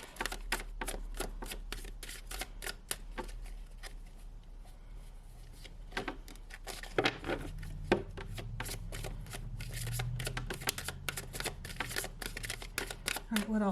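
Rapid papery riffling of tarot cards, repeated in quick bursts throughout, with a voice speaking over the shuffling now and then.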